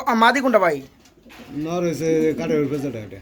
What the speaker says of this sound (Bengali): মন্ডি কবুতর সম্ভবত গ্রিজেল কালার